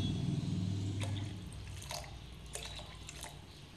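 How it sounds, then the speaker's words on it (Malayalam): Water pours into a Kerala-style mullan fish curry pan, a close, steady splashing rush that gradually softens, with a few dripping ticks toward the end and no talk. "ആവശ്യത്തിന് വെള്ളവും ഒഴിച്ചു കൊടുക്കുക."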